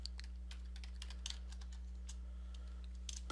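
Quick bursts of typing on a computer keyboard while entering text in Word 2016, scattered clicky keystrokes in irregular clusters, close and fairly quiet over a steady low electrical hum.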